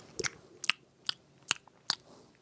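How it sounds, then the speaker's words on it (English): Five sharp, crisp crunches of someone biting into a Kit Kat bar, evenly spaced about every half second, close to the mic and quiet otherwise. "This is the sound of a Kit Kat."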